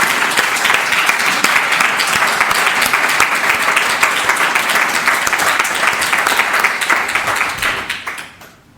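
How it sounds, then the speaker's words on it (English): A conference audience at an event on enterprise-level SDMX implementation applauds the presenters: dense, steady clapping from a sizeable crowd that holds loud for about seven seconds, then fades out near the end. "So a round of applause, please,"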